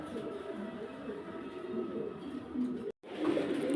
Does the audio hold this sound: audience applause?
no